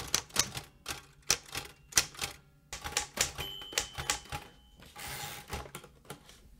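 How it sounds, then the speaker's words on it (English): An old Royal manual typewriter clacks out rapid, uneven keystrokes up close, with a carriage ratchet and a short zip of the return lever partway through. "This is the old Royal typewriter that you saw Ben Urich use in the Daredevil story"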